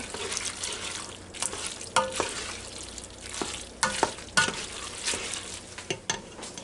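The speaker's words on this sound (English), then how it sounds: "now start working this stuff in as that pot's getting hot" A spoon stirs a thick mac and cheese mixture in a hot pot, making repeated wet scraping and sloshing strokes over a faint background sizzle, close and fairly quiet with irregular rhythm.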